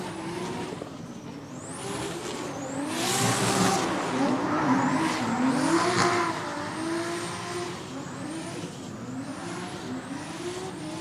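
A race car in a racing video game revs hard through gear changes, its engine pitch sweeping up and down while tyres squeal, loud and continuous throughout.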